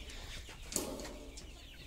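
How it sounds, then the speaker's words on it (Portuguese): Plymouth rooster and Hissex hens in a small backyard poultry yard clucking softly, a faint low murmur with one brief sharper cluck near the middle, no talking. "Aí, ó, galo Plymouth, as galinhas Hissex, ou a Isa Brown, né?"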